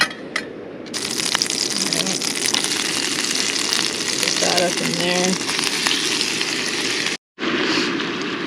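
Chanterelle mushrooms sizzle in butter and olive oil in a pan on a stove, a loud steady crackling hiss with a brief burst of talk partway and a short gap near the end.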